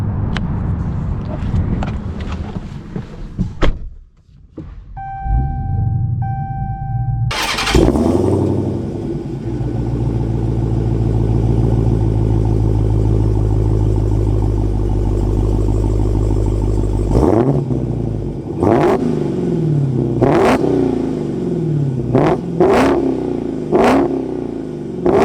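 Nissan GT-R and Dodge Challenger Hellcat Widebody start with a brief whir, then a loud, sustained engine drone while driving, followed by several sharp rev bursts near the end; no talking.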